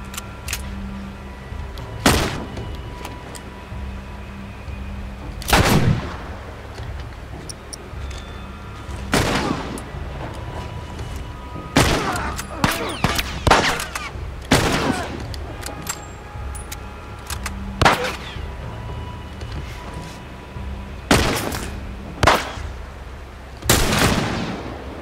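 Gunshots ring out in The Last of Us Remastered survivor mode, about ten sharp broadband cracks spaced irregularly over a low ambient game bed, loud and close with a brief voice or two in between.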